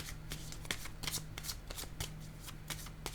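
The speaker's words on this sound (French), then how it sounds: "Je vais déposer une carte rose sur elle." Tarot cards slide and flick in a quiet room, a quick series of crisp, close shuffling snaps and soft papery brushes, spaced unevenly, without any talking.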